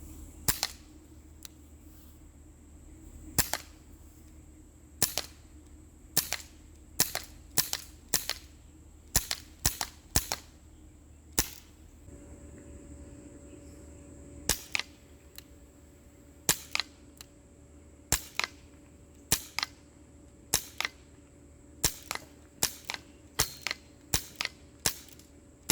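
Elite Force H8R airsoft revolver fired repeatedly on a range test, sharp snapping cracks in irregular bursts over about 25 seconds, some shots close together, with a faint steady hum underneath and no talk.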